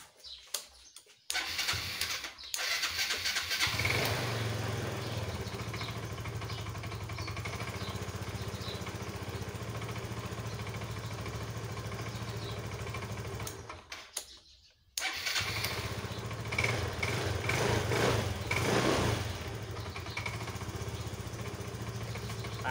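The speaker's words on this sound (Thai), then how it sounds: "เดี๋ยวเรามาทำการสตาร์ทเครื่องกันครับ" A Yamaha Mio125i motorcycle engine cranks and catches, then runs at a steady idle. It cuts out briefly and starts again, idling close up and alone with no voices over it.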